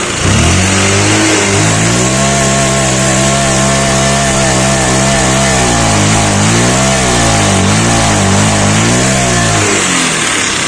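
A motorbike engine with a fault that keeps it from picking up speed revs loudly at full throttle, a continuous close buzzing drone that wavers up and down in pitch for about ten seconds.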